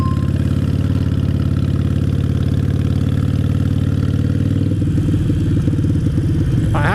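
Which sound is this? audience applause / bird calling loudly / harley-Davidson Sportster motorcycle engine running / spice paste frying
harley-Davidson Sportster motorcycle engine running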